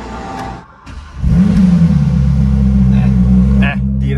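Porsche GT3 RS with a newly fitted exhaust starts up and revs, a loud, deep engine roar that climbs and then holds a steady rumble for several seconds, close by.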